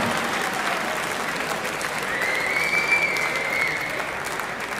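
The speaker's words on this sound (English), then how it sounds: "A massive round of applause as she leaves the stage for Rhian O'Sullivan" Steady, dense crowd applause at the Isle of Man Festival of Darts 2023 ladies final as a player leaves the stage. The ovation stays full and even throughout, with cheers mixed in and no talk over it.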